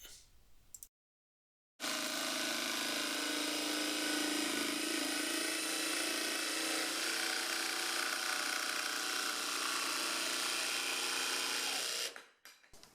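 A jigsaw cuts a curve in wood, a steady, loud buzzing whine that holds for about ten seconds after a short silence, then winds down at the end.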